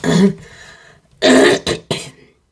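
A rough throat clear followed by a couple of short, sharp coughs, close by, with brief silence between them.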